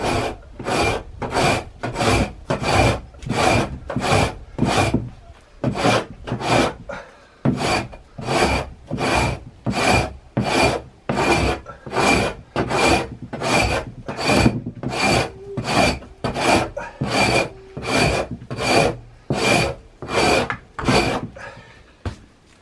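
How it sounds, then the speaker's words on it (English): Frozen beaver pelts scraped outdoors in the cold with a scraping tool, a rapid run of loud, rhythmic rasping strokes, each one short and gritty, repeating steadily with one brief pause near the middle and no talk. "The pelts are frozen solid, and I'm going to start scraping"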